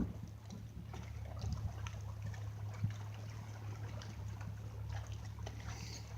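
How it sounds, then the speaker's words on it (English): An oyster dredging boat heads back into harbor on Tangier Sound in Chesapeake Bay, its engine a steady low drone under washing, trickling water, heard from nearby without voices. "this boat's going back into harbor after dredging for oysters today"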